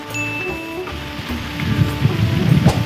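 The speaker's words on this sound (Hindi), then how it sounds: "अभी बारिश आना स्टार्ट हो गई है, अच्छी बारिश आ रही है" Heavy cold rain in Punjab, Pakistan, pattering on leaves and surfaces beneath a tree, a dense steady hiss that grows louder toward the end with no voices.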